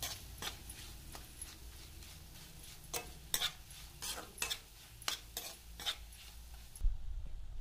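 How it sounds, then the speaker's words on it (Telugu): A spatula stirs bitter gourd fry with a dry spice mixture in a pan, giving repeated close scraping strokes at an uneven rhythm over a soft frying background, with a quiet tail at the end. "ఈ పొడి మిశ్రమాన్నంతా కూడా ఉండలు లేకుండా పూర్తిగా మనం కలుపుకోవాలి।"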